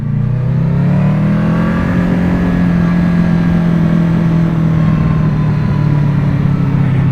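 Honda VFR800F motorcycle engine revving loud and steady, a continuous close mid-pitched drone that climbs and settles through the whole stretch, with wind and road noise around it and no talking.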